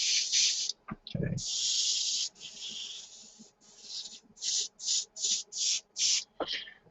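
Wata Neo airbrush fitted with a 0.3 needle spraying paint in short hissing bursts, first a few longer sprays and then a quick series of brief, evenly spaced puffs, close and clear, with faint handling noises between.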